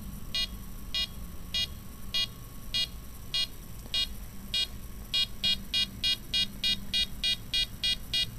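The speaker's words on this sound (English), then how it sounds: "as I get closer and closer and closer, it starts beeping more and more." A steady electronic beep from a Sharp proximity sensor on an Arduino sensor board repeats at a slow, even pace, then the beeps come quicker and closer together toward the end as a hand approaches. A low hum runs underneath.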